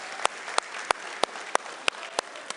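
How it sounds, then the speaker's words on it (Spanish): Sharp, evenly spaced claps at about three per second ring out in a church service honoring football tournament players, each one distinct over a quiet room. "denle un aplauso a todos los jugadores y todos los que participaron"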